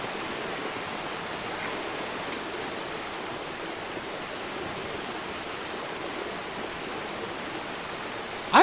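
River water flows in the video game Fe, a steady broadband rush, even and unbroken, with no voices.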